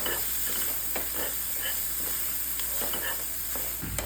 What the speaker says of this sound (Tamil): நல்லா பொன்னிறம் வர வரையும் வதக்குவோம்.